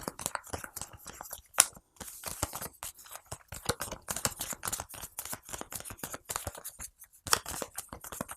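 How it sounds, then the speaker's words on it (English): Legendary Marvel game cards shuffled by hand in a dense run of quick, light riffling and slapping clicks, close and fairly quiet, with brief pauses between bursts. "that gets shuffled up"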